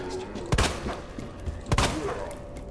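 Single-shot gunfire in the video game Resident Evil 2 Remake: two sharp, loud gunshots about a second apart, each with a short booming tail over a steady low game ambience.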